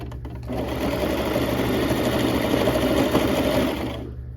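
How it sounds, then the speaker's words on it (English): Sewing machine running continuously for a few seconds as it stitches over an overlapped seam, a close, even mechanical whir that ramps up and slows back down at the end. "So I'm gonna overlap it. I'm just gonna sew on top of it"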